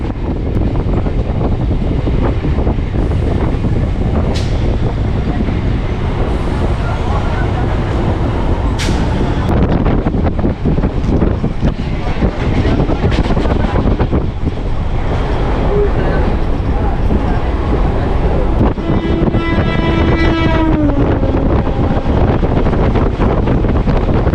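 A fast local train running at full speed from Howrah toward Midnapore, heard from on board as a loud, continuous rumble with rattling, wind buffeting and a brief squeal near the end.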